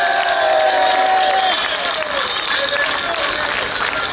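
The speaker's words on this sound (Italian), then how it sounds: "Facciamo un grande applauso per Papa Francesco" A live audience applauds and cheers for Pope Francis at an outdoor music event in Guidonia, a loud, dense wash of clapping and crowd noise that holds steady for the whole stretch.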